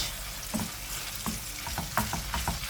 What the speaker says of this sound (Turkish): Şöyle 300 gram kadar kıymamı tavama ekledim.